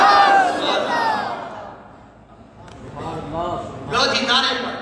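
A crowd at a religious speech in Lyari Town answers a call with loud chanted slogans, a voice leading before massed voices surge back in unison, fading briefly and rising again, with a speaker's voice audible.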